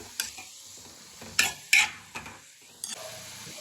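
A spoon stirring mango chutney ingredients in a pan: several scraping clinks spaced irregularly over a soft background, close and fairly quiet.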